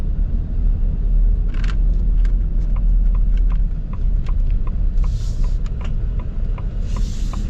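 A modified Ford Raptor truck drives along, with a loud, steady low road rumble and engine drone heard from inside the cab, plus scattered small clicks and brief hissy swells.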